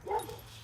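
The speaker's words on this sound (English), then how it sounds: "we make their dogs bark" A neighbor's dog gives a single short bark or yip nearby and then falls silent, leaving a quiet outdoor background.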